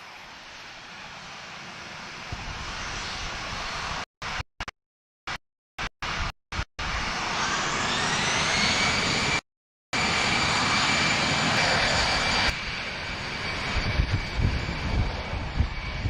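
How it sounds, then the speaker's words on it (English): A Boeing 737-400 taxis at Lisbon Airport, a broad steady engine roar with a rising whine, heard at a distance, interrupted by several brief dropouts and one longer gap. "our 737-400 is taxiing at 13 knots at the moment"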